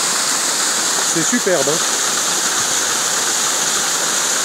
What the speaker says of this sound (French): Regardez un peu la cascade là-haut.